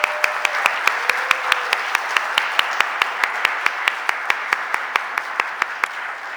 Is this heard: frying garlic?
no